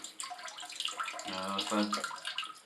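Warm water spraying steadily from an Alpha bidet toilet seat, a continuous close hiss with a brief tonal gurgle in the middle, running throughout the short stretch.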